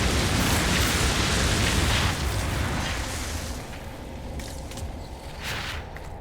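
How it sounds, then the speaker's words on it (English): A video game explosion blasts a hole through a passage in the dark Deep Roads, a loud rumbling boom that fades into a lower roar and settles with a few scattered knocks. "It wasn't a huge explosion, though."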